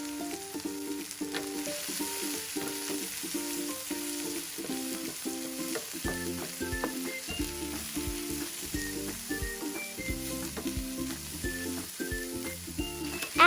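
Turmeric, chili powder, pepper and chili flakes sizzle steadily in a pan for a crab curry, a constant frying hiss beneath louder, rhythmic background music throughout.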